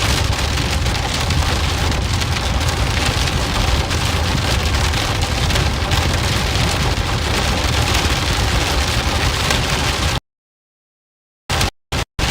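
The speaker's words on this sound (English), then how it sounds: "Little pea-sized hailstones starting to fall out." Rain mixed with pea-sized hailstones pours down steadily during a supercell storm in Joplin, Missouri, a dense, loud patter on surfaces that cuts off abruptly, followed by a few brief bursts.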